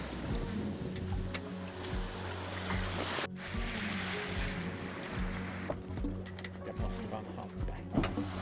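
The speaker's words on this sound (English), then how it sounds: "shut off the noisy engine and just can listen to the waves and the wind" Sea wind and waves around a sailboat off Newfoundland with its engine shut off, a steady broadband rush of wind and water close by, with low rumbling tones and faint voices mixed in.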